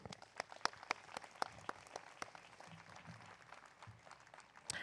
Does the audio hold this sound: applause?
yes